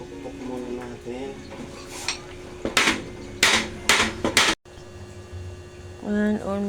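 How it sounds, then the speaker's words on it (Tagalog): Hammer blows on a saltwater aquarium canopy under construction: a few scattered taps, then a quick series of loud sharp strikes, with brief talk before and after. "pukpok muna natin."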